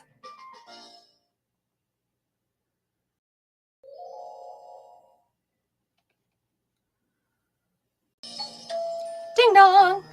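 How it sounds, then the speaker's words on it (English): A two-note ding-dong doorbell chime rings out clearly near the end of a mostly quiet stretch, following a couple of faint, brief electronic tones earlier, in an anime-style dating game. "The sounds of the doorbell is elegant and serene."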